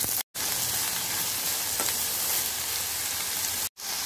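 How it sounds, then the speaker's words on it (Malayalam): Onion frying in hot oil in a pan for a crab roast, with a loud, dense, continuous sizzle heard up close, broken only by two brief silent cuts. "അതിലോട്ടേക്ക് നമുക്ക് ഉള്ളി ചേർത്ത് കൊടുക്കാം."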